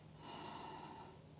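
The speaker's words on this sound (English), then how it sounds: "Breathing." A single close breath during a hip-flexor yoga stretch: a soft, airy, drawn-out exhale with a slight nasal snort quality, lasting just over a second.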